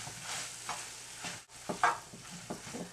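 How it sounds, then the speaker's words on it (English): Shirataki noodles are stirred into ground turkey in a frying pan, with soft scraping strokes over a quiet sizzle and a brief pause partway through. "I'm gonna add the noodles. Gonna mix this in."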